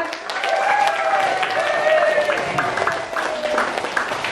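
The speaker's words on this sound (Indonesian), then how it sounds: "Yang paling luar biasa kita beri aplaus tangannya." A room of listeners breaks into steady applause, with many hands clapping in a continuous wash for several seconds, while a voice carries on over the clapping.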